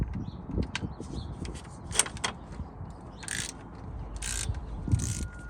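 A ratchet works on a tight bolt on a 5.9 V8 Dodge water pump, with close, irregular metallic clicks and clanks and scraping under a low background hum, no talk.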